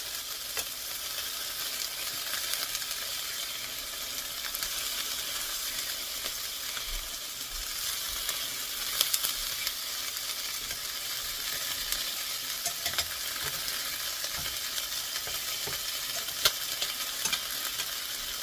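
Chicken thighs fry in a skillet under a splatter screen, giving a continuous soft sizzle and crackle with scattered small pops, fairly quiet and without voices.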